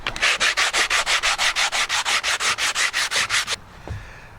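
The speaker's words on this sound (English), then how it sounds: "just a bit of sandpaper wrapped around a bit of wood will do the job." Sandpaper wrapped around a wooden block rubbed back and forth over wood, about twenty quick, even, loud strokes in a steady rhythm, close by, then stopping abruptly into near silence.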